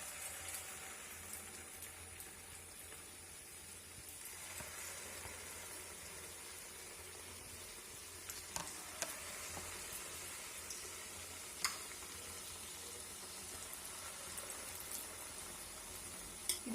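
Dosa batter mix frying in hot coconut oil, a faint, steady sizzle with a few soft crackles and pops, continuous and without talk.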